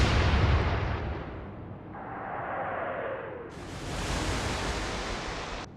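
Naval cruiser guns fire in the Atlantic Fleet video game, a loud, broad blast at the start that rolls into a long rumbling decay, followed by a swelling hiss of shell flight or splash, with no talk.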